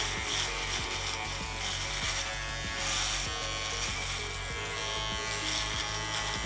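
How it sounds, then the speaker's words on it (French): A close electric razor buzzes steadily while shaving the nape of the neck, its motor hum rising and falling with the strokes against the hair over several seconds. "C'est suffisant pour me raser la nuque?"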